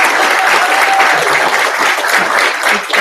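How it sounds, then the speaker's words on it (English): A conference audience bursts into loud, dense applause that holds steady for a few seconds, broad and close, with no speech over it. "give yourself a round of applause"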